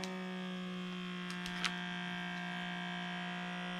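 A FoodSaver cordless food vacuum sealer pumps air out in a steady, close electric motor hum with a constant buzzing tone, broken briefly by a couple of small clicks near the middle.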